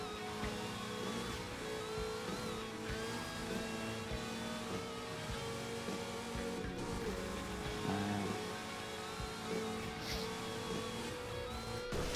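Car racing in Burnout Paradise: an engine drones steadily and revs throughout, with tire squeal and passing-car whooshes layered over game music, at a fairly low, even level.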